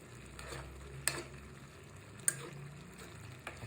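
A spoon stirs jackfruit cooking in fresh coconut cream with ground black pepper, a soft low simmer and sizzle broken by a few sharp utensil clinks against the pot.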